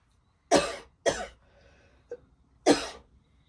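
Several harsh coughs, close by: two in quick succession, a short small one, then a final loud cough, with quiet gaps between.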